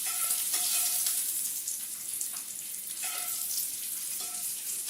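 Hot oil sizzles steadily in a frying pan, left in after cooking and heated for shrimp in a surf-and-turf ramen; a dense, continuous crackle fills the whole stretch, close and fairly loud, with no talking.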